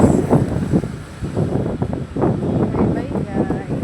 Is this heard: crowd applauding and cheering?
no